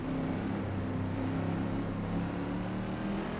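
Chevrolet Corvette C6R race car engine in the Assetto Corsa racing game, a continuous droning rumble with layered tones held steadily at Imola, moderately loud and without speech.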